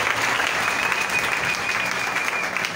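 A church congregation bursts into sustained applause, dense clapping from many hands filling the space at an even level for several seconds, with a voice faintly audible beneath.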